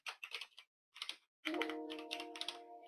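Keystrokes on a computer keyboard while code is entered, a quick run of close, crisp clicks followed by a pause and more tapping, with a faint steady tone running underneath the later strokes.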